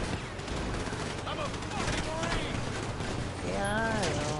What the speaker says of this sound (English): They've been firing away since then.